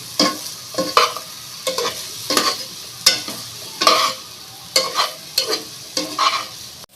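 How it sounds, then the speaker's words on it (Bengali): Potato and cauliflower chunks frying in a pan for a rui fish curry are stirred with a spatula: about nine distinct scraping, sizzling strokes in a steady rhythm, close and fairly loud, with no talking. "আমি এখন ঢাকনাটা খুলে আবার নেড়ে চেড়ে দেবো এই আলু কপিটা"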